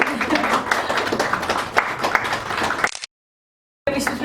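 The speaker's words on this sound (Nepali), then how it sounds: "सबैलाई ताली बनाएर" An audience at a Nepali Gurung literary gathering bursts into clapping, loud and scattered, with voices talking through it and a sudden brief dropout before the clapping resumes.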